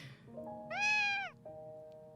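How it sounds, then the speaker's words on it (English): A kitten in the game Piofiore: Fated Memories gives a single clear, high meow, rising and falling over about half a second, close and distinct above a soft musical background with no talking. "I cuddled him in my arms and looked at its blue eyes as it meowed at me."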